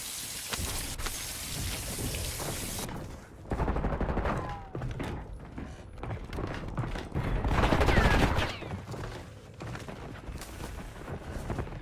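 Bursts of gunfire in a first-person shooter game, heavy dense volleys that swell and fade across a noisy, rain-like wash, loud and close with no speech.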